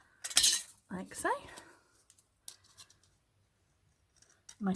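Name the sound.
scissors cutting ribbon strips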